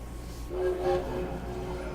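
A train at a Paris station in the video game Valiant Hearts: The Great War, with a low steady rumble, and a horn-like tone sounding briefly in the middle before fading back into the background.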